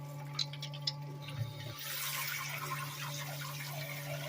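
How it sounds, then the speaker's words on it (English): Water pours steadily from a base camp portable shower, a soft continuous rushing and splashing that swells after a few faint clicks and a low background hum, heard alone without voices. "that water that's coming out of here is already pretty warm already."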